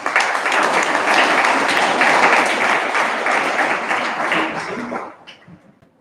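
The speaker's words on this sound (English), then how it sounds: "Let's give a big round of applause for." Audience at an all-India debate competition breaks into loud, sustained applause filling the room for about five seconds, then quickly tapers off into a few scattered claps.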